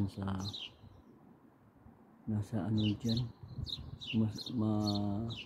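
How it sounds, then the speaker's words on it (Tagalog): Small birds chirp in quick bursts from shrubs in a backyard while someone talks over them, the calls light and fairly close. "maganda pakinggan yung huni ng mga maliliit na ibon"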